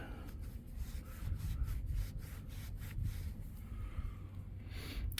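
A metal detecting find being wiped clean of dirt in a farm field, heard as a steady close rubbing and scraping texture with faint outdoor wind noise behind it.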